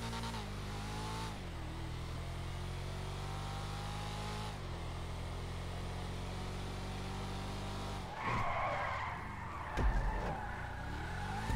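Tires squeal in a driving video game as a car slides sideways through a loose drift, a steady engine drone underneath and a louder burst of skidding near the end, with no talking.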